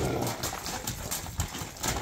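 A horse's hooves clip-clop close by in a few irregular steps, fairly faint, with a slight background hum.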